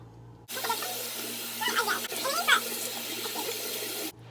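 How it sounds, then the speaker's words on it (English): Water from a tap runs steadily into a bathroom sink during face washing after makeup removal, a continuous close splashing stream lasting a few seconds with brief louder splashes midway. "If you think that you're finally done grabbing everything, then wash your face."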